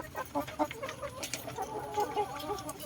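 Layer hens clucking and murmuring in a steady, busy chatter as they eat in a backyard flock, with overlapping short calls close by and no talk.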